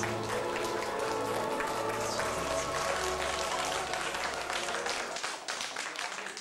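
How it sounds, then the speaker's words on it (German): Dense, loud applause from an audience at a company party magic show, a continuous wash of many hands clapping that holds steady and only starts to thin near the end. "Dein Applaus."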